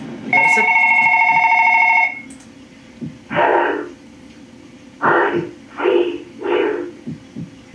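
In the horror game One Late Night, a phone gives one loud electronic ring lasting about two seconds, then stops; afterwards a voice talks in several short bursts.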